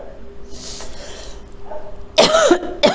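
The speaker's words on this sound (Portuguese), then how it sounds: "Vocês me desculpem, mas tá me dando tosse." A person, a live speaker giving a talk on violence, coughs in one sharp, fairly loud burst near the end, after a stretch of quiet room tone.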